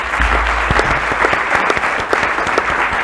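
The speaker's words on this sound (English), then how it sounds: "Let's give them a great round of applause." An audience at a mental health conference panel gives a sustained round of dense, steady clapping, close and loud, with a few faint voices mixed in.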